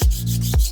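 Hand sanding wood with 180 grit sandpaper, two short firm rubbing strokes close by, a steady raspy scratch between them, with no talking.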